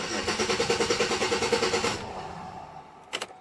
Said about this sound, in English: Now she won't restart.